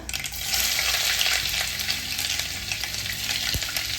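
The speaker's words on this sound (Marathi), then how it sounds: "तेल छान तापलं की त्यात थोडी मोहरी त्यानंतर बारीक चिरलेला कांदा" Mustard seeds and finely chopped onion hit hot oil for a Nagpur Saoji egg curry, producing a loud, continuous close sizzle with occasional stirring clicks throughout.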